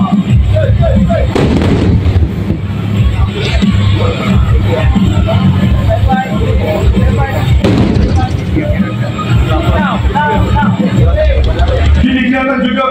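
Repeated heavy booming blasts of 70mm rockets fired from two MD-530G helicopters at a military demonstration, loud and continuous, with sharp bursts standing out over a dense rumbling background.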